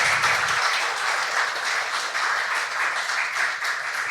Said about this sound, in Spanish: les pedimos a todos un aplauso para recibir a nuestro disertante